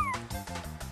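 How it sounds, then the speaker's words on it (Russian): A cat meows several times in quick succession on a children's television programme, short repeated calls at moderate volume with a tonal backing. "Кошка мяукнула три раза."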